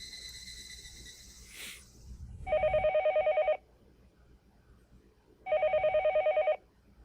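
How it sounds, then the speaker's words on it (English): A telephone rings twice in the game Higurashi, each a trilling electronic ring lasting about a second, separated by a quiet pause, near and loud. "The phone suddenly rang."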